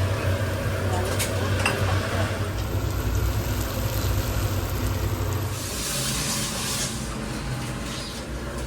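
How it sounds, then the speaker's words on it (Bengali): Potatoes frying in a pan in a home kitchen during birthday biryani preparation, a steady dense sizzle running throughout with occasional stirring clinks, voices chattering over it. "তো এই যে এখানে আলু ভাজা হচ্ছে"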